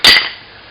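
A sharp metallic snap as a brake pad clip on a 2013 Kia Sportage front brake is popped loose with a screwdriver, a single loud close click with a brief ringing tail.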